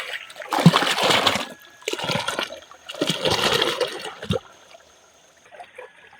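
Water rushes and splashes in bursts as it is diverted through a small channel during traditional river fishing in rural Burgos, La Union, with three surging pulses before it settles into a quiet trickle.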